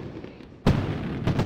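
Fireworks in a 4th of July show on a Minecraft-style build server go off with a single sharp boom, followed by a crackling tail and a softer second burst.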